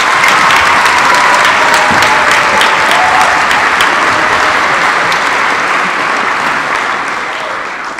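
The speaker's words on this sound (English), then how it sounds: "Can everyone give them a big round of applause?" Dense audience applause for string musicians at a concert, loud and sustained for the full eight seconds before easing slightly at the end.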